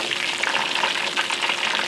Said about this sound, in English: I am pan frying chicken tonight